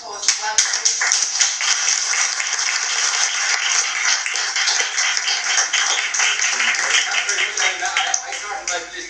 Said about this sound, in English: please give us a big round of applause and welcome